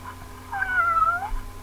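A single cat meow from a disc in the video game Dream Chronicles 2: The Eternal Maze, a clear drawn-out mewing tone of about a second with no talk over it.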